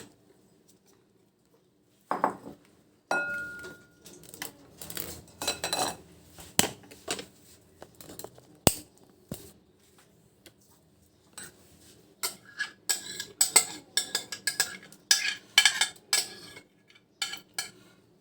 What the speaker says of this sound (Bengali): বেলটা আমার সব চটকানো হয়ে গেছে। এবারে এটা আমি একটু ছেঁকে নিব।